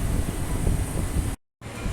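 A High Wycombe train at Perth station rumbles loudly up close with a heavy low-frequency roar, which cuts out abruptly for a moment and then resumes.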